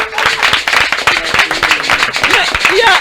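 A crowd claps enthusiastically for the Amoukanama acrobat group, dense close applause with cheering voices mixed in, loud throughout.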